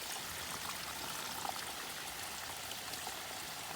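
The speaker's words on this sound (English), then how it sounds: "Filling up with water doesn't get much easier than this." Water from a stream in Linville Gorge runs steadily into a dirty water bag, making a soft, continuous trickling rush up close with no voices.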